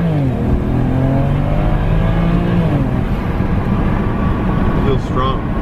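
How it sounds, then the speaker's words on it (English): BMW car with an N54/N55 engine on a test drive after intake valve cleaning, a steady loud engine drone with rising and falling revs heard from inside the cabin throughout. "I'm just test driving it around right now, seeing how it feels."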